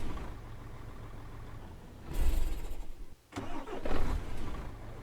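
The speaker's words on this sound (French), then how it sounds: "on remonte dans la cabine et on allume le moteur" A Mercedes truck engine cranks and catches from inside the cab, a low rumble that surges twice and settles toward idle, with a brief quiet gap between the two surges.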